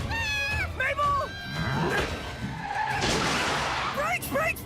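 Cartoon car tires skidding in Gravity Falls, a long harsh screech with noisy sliding under frantic shouted voices, loud and close, stretching over several seconds.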